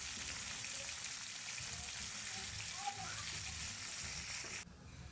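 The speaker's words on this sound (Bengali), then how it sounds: "দেখো মাছটা ভাজা হচ্ছে।" Fish frying in a pan before being cooked with cauliflower, giving a steady, close sizzle throughout that drops away abruptly near the end.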